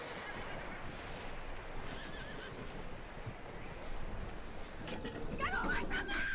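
A skittish horse in Red Dead Redemption 2 whinnies late in the clip, a clear rising-and-falling neigh over a steady bed of game ambience and clip-clopping hooves.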